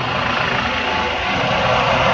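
An air ambulance helicopter landing in Berlin gives off a loud, steady roar of rotor and engine noise that stays broad and unbroken throughout, close by, with no voices over it.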